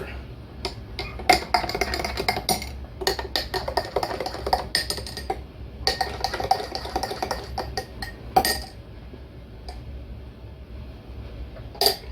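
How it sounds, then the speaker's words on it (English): A drink sweetened with Torani vanilla syrup is stirred, giving light, irregular clinks and taps of a spoon against glass over a few seconds, with soft background noise between bursts. "Now we stir."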